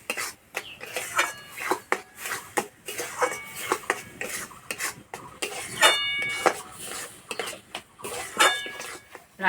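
Thick semolina for Bengali mango-stuffed balls scraped and stirred in a pan, a run of irregular metallic scrapes and clinks from a spoon against the pan, close and moderately loud.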